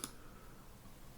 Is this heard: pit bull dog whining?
no